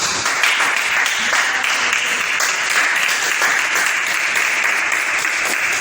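A church congregation applauding to acclaim Jesus, sustained loud clapping from a large crowd that fills the space evenly for several seconds without pause.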